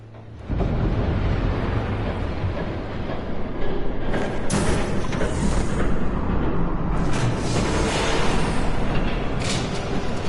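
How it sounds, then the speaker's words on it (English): Train approaching in the Batman Telltale Series video game, a dense, steady rumbling roar that swells in and holds, with heavier surging bursts partway through and no speech. "There's a train coming."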